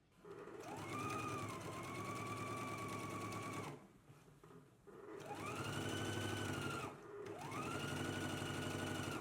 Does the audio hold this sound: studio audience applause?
no